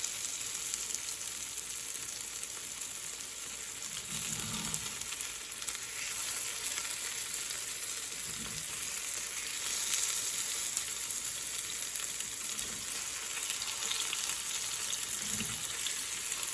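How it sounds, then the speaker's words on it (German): Meatballs fry in a pan with a steady, bright sizzle throughout, broken by a few soft thuds and scrapes as they are turned with a small spatula; close and continuous, with no voices. "Während des weiteren Bratvorganges werden die Bällchen noch immer wieder gedreht."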